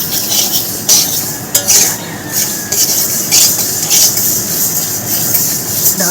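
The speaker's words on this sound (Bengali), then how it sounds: "এখন ভাজার সময় অনবরত নাড়তে হবে, যেন না পুড়ে যায় ডালটা" Moong dal being stirred continuously as it dry-fries in a pan, giving a steady grainy scraping and rustling with soft clinks from the utensil, close and fairly loud throughout.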